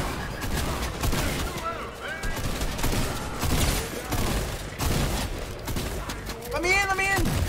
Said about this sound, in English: Oh, Brutus is shooting him.